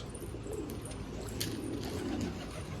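Soft, low pigeon cooing repeated under a steady noisy background, with faint rustling nearby.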